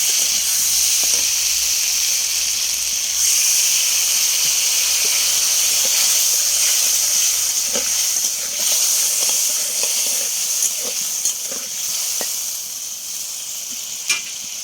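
Steady, loud hiss and sizzle as water hits chili and turmeric spices frying in a pan, continuing without pause and without talk, with a few faint clinks.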